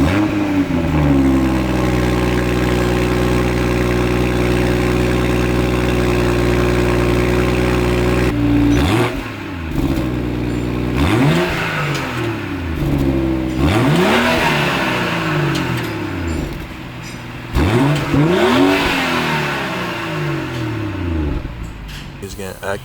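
A BMW X3 M40i with an aftermarket exhaust idles with a deep steady drone, then is blipped through a series of sharp revs that rise and fall, close and loud, with people talking in the background.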